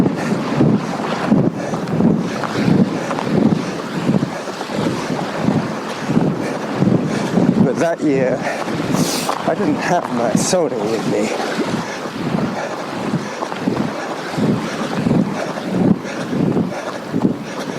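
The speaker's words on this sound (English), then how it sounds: "most of the noise was in fact the waves." Ocean waves wash along a seaside shore beneath someone talking, with gusty wind buffeting the microphone and a continuous surf roar throughout.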